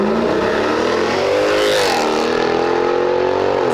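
A V6 turbo car engine roars loudly and close by, holding a steady growl with a brief rise in revs midway and no talk over it.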